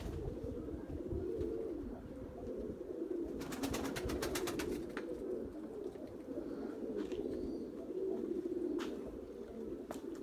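White pigeons coo softly during a flight session, with low, throaty coos recurring through a steady quiet outdoor background and a brief rapid fluttering burst near the middle, all faint and distant.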